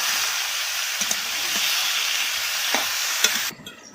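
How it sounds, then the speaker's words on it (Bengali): Green beans, onion and carrot stir-fry in a pan with a steady, close sizzle and scattered stirring taps. The frying sound drops away abruptly near the end. "এইবার আমি এগুলোকে ভালো করে নেড়ে চেড়ে ভেজে নিচ্ছি।"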